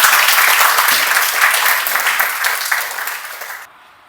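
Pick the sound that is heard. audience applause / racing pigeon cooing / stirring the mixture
audience applause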